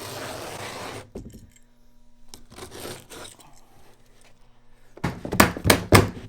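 A carpet runner being scored and cut for a turning staircase, with short rasping slices and scraping strokes near the microphone, ending in a burst of louder cutting rubs.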